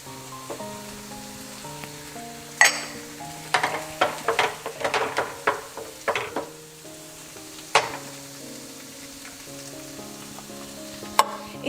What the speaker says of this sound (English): It's about 4 minutes passed from the time we started cooking the tomato paste in oil.